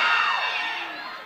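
A crowd of students at a Weber State event screaming and cheering together, a loud, shrill burst of many voices that swells at once and then slowly fades.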